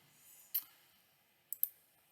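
Faint, crisp clicks of a computer mouse in a quiet room: one single click, then a quick double click about a second later.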